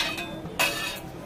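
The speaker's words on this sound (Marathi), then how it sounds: "हा आता मी हे एका प्लेट मध्ये काढून घेते।" Roasted chillies are moved from a griddle onto a plate, giving a brief clatter and clink of utensil against metal and crockery, close and clear with no voices.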